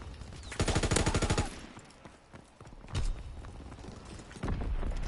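A Sten submachine gun in Call of Duty: World War II fires a loud, rapid automatic burst. After a quieter gap come a single heavy shot and then another burst as the clip ends.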